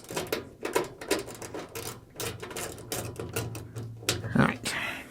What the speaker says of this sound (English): I'm going to pull those 3 screws, and then we'll remove this top panel